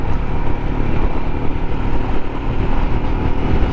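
A Royal Enfield Himalayan motorcycle engine droning loudly at speed on a highway, a steady close roar mixed with wind buffeting, with no clear gear change heard.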